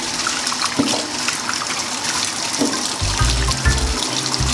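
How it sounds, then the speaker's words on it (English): Hot tap water running steadily from a faucet over green bananas with slit skins in a sink, a continuous hiss with a heavier gush and splatter near the end. "just leave it underneath and let the water run on it for a little while"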